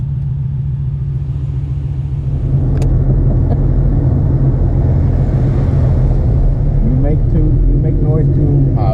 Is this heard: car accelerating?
yes